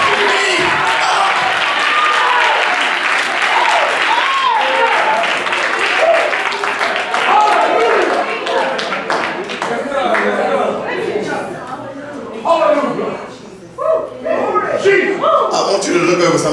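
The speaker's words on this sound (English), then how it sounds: "come on, clap your hands and shout" A church congregation claps and shouts together in a loud, sustained roar, with a preacher's voice speaking over the crowd throughout.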